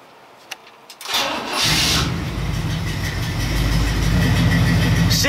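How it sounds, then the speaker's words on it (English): A car engine fitted with a Carter AFB carburetor cranks briefly after a couple of small clicks, catches and starts right up, then settles into a steady, even idle, loud and close, with no talk. "See, it starts right up and idles perfect."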